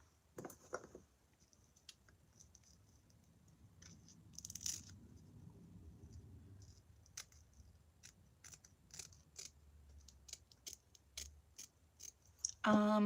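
Scissors make sharp, separate snips while cutting baby hairs along a wig hairline, close and crisp over a quiet background.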